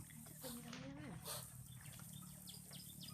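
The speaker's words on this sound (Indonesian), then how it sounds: "Setelah ditanam maka dilakukan penyiraman lor." Water poured over newly planted bitter melon plants makes a soft, steady splashing trickle, with birds chirping in the background throughout.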